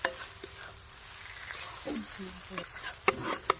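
Paneer is stirred and fried in a pan with a soft, continuous sizzle and scraping. Brief utensil clinks and light taps come through, and faint voices sound in the background.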